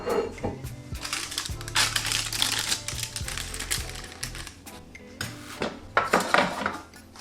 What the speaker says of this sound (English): I'm just gonna carefully remove this from this baking tray.